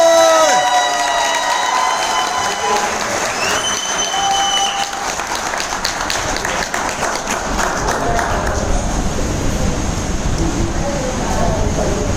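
An indoor company event audience applauds and cheers a speaker in Mumbai, loud sustained clapping swelling toward the end, mixed with shouts and some talking.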